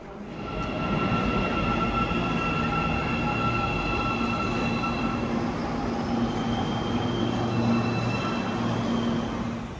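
Steady rumble of a subway train running along the track in Almaty, Kazakhstan, with high metallic whines and squeals riding over the constant roar, continuous throughout.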